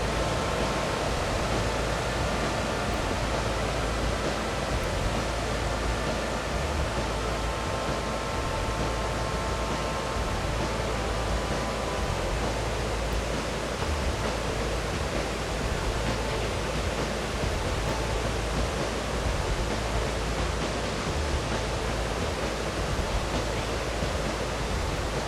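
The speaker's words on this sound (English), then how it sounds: "This is actually a gorge with a series of small waterfalls." The Gates of Haast in New Zealand, a gorge holding a series of small waterfalls, give off a constant loud roar of rushing water that never lets up.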